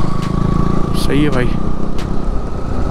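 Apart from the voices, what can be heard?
motorcycles of bikers riding alongside on the road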